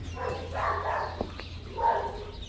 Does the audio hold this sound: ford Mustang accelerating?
no